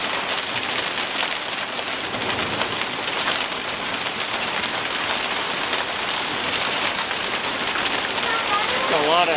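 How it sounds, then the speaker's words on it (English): Hail pours down during a storm, making a dense, continuous patter and clatter on surfaces that lasts throughout, with children's voices talking over it. "That's a lot of hail."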